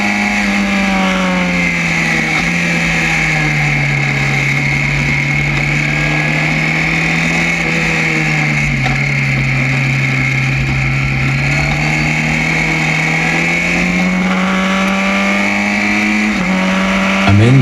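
A race car engine drones loud and steady from inside the cockpit during a fast corner in third gear, its pitch rising and dipping slightly, with a brief shift near the end and no talk.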